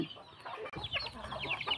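Chickens cluck at a coop, a series of short, close clucks and squawks tumbling over one another in uneven bursts, loud against a quiet rural background with no talk.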